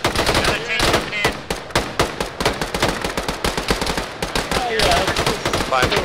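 Rapid bursts of automatic gunfire in a military video game with tanks and armored vehicles, loud, dense and continuous, with rattling volleys stacking over one another throughout.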